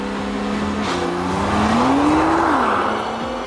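A Nissan GT-R sports car launches hard from a standstill, its engine note climbing steadily in pitch as it accelerates, then easing off near the end, loud and close with no talking.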